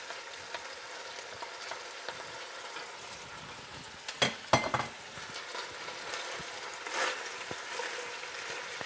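Roughly chopped onions fry with golden-browned meat for goulash, giving a steady close sizzle throughout, with a few louder clatters and scrapes of stirring midway.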